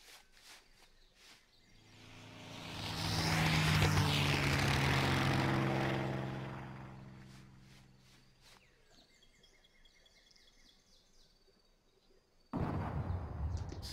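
A propeller aircraft drones past, swelling to a loud peak and fading away, followed by quieter ambience and a sudden burst of noise at the end.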